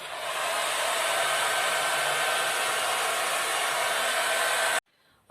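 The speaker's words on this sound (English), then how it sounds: "for the next step you need hair dryer" A hair dryer blows to dry paint on a children's bird artwork, a loud steady whirring roar held close for nearly five seconds before cutting off abruptly, with no talk.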